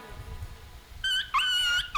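A small puppy whimpers in two brief high, whining yips, close and fairly faint over a low background rumble.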